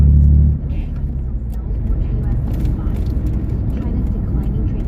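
A car driving with a manual clutch and gear change, a loud low engine drone close by that dips briefly as the gear changes, then settles into a steady cabin hum.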